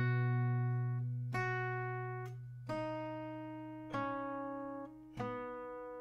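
Acoustic guitar picking single notes one at a time over a low ringing bass for the G-chord part of a song, each pluck spaced about a second apart and left to ring, quiet and close.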